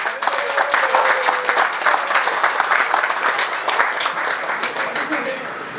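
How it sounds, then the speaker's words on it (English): Dense, steady audience applause fills a yacht club party in Phuket, with a faint voice or tone briefly audible beneath the continuous clapping. "Big round of applause for Mr."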